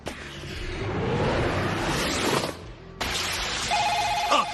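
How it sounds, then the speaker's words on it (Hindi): After a rushing, noisy swell, a phone begins to ring with a short, steady electronic trill near the end. "सॉरी मेरा फोन है, ले लिया"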